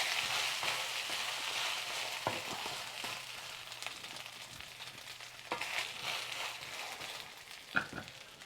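A Korean pancake sizzles steadily in a frying pan right after being flipped, a dense, loud crackling hiss broken by a few small pops and scrapes, with no talking.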